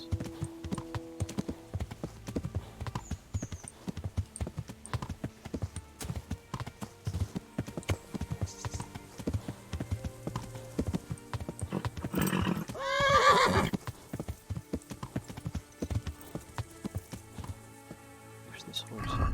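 Horse hooves clip-clop at a gallop with a whinny in Kingdom Come: Deliverance, medieval game audio with a rider's footsteps and hoof rhythm throughout, a louder neigh burst near the middle, under someone talking.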